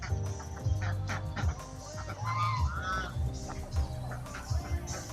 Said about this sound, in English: So a bunch of ducks and this turkey.